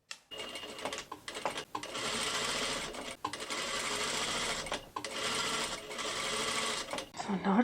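Sewing machine stitching the outer and inner fabric of a Regency dress, a close, steady mechanical whirr in three sustained runs separated by short pauses, with a voice speaking at the end.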